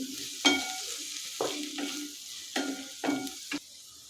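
Vegetables with turmeric and asafoetida sautéing in a pan for weight-loss breakfast poha, with a soft steady sizzle broken by five or six distinct spoon scrapes and stirs, close and moderately quiet, no talking.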